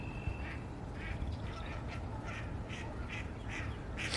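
Ducks and geese call over a frozen lake in spring, a run of regular quacks and honks fairly far off, sitting over a steady low wind-like rumble.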